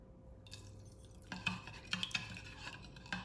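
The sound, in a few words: stirring lye into soap mixture with a spoon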